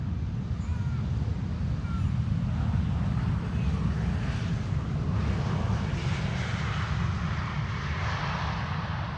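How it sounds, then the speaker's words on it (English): An Airbus A380 at an airport gives off a continuous low jet engine roar, steady and fairly distant, with light wind buffeting on the microphone throughout. "Oh yeah, the A380 going to the center."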